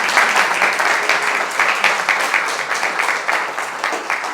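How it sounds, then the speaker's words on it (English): Audience applause fills the room at a speaker's first public speech, steady dense clapping throughout at close range with no talk over it. "Let's give him a round of applause."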